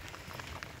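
Gentle rain falls on a boat before a cyclone, with windless, soft, dense patter of drops that sounds close and even throughout.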